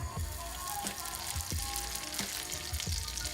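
Butter sizzling in a warm pan, a quiet steady crackle punctuated by several soft low knocks at uneven intervals, with no talk.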